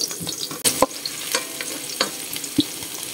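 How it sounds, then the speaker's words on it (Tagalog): Garlic and onion frying in a pan, a soft steady sizzle broken by a few sharp scrapes and clinks of a utensil stirring, close and fairly quiet with no talking. "ilagay natin ang bawang at sibuyas"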